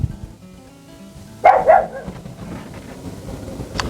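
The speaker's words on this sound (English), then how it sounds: "there's Barney barking" A dog barks a couple of times at middle distance beside a chicken feed shed under construction, the short sharp barks standing out over a quiet outdoor background.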